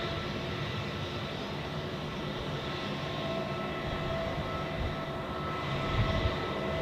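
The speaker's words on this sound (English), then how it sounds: "a look at this Asian Airlines A320" An Asian Airlines Airbus A320 at Zurich Airport gives off a continuous distant engine drone with a whining tone, steady and moderately faint, swelling slightly toward the end.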